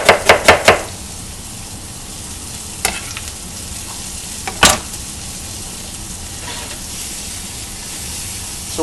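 Onions sizzle and fry steadily in a pan for pasta, a continuous close hiss broken by a few sharp clacks of stirring at the start and a couple of later scrapes.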